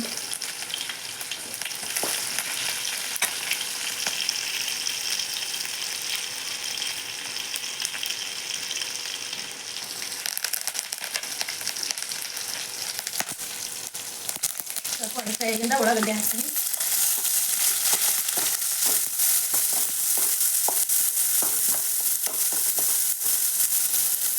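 Garlic crackles in hot cooking oil in a continuous, close sizzle that grows a little louder and busier in the later half, with occasional soft scraping.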